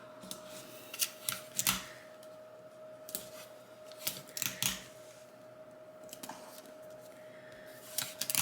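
Adhesive tape is pulled in quick ripping bursts from a tape dispenser and pressed down while making a Christmas sign, several sharp tears spread through the clip amid quiet handling.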